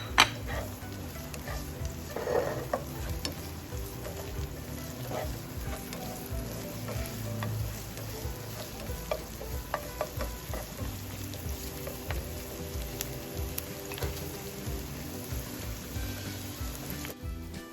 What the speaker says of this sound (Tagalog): saute our onions until it turns transparent. And now we can add our garlic